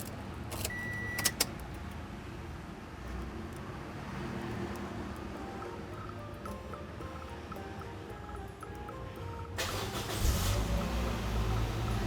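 A Toyota Yaris is started in a quiet cabin: keys jangle and a brief electric whir come first, then near the end the engine cranks and catches with a rising low rumble.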